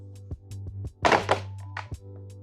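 Several sharp plastic pops and thunks as panel clips are popped out on a BMW R1300GS motorcycle, a few quick single snaps then a louder cluster of cracking pops in the middle, close and alone.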